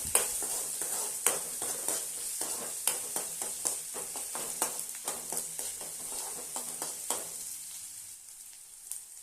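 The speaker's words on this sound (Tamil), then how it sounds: "நல்லா பொடியாக கட் பண்ண வெங்காயத்தை சேர்த்துடலாம். நல்லா வதக்கி விட்டுடலாம்." Finely chopped onions sizzle in hot oil in a pan while a spoon stirs them, giving a bright, steady crackle broken by repeated scraping strokes that fade toward the end.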